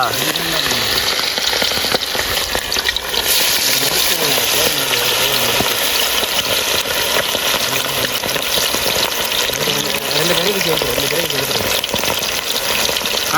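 Quail pieces for kaadai 65 fry in hot oil, a dense, loud, continuous sizzle with bubbling crackle and occasional stirring, a voice talking faintly underneath.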